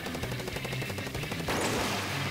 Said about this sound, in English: what you want to do first is pop the Rainmaker's shield by shooting at it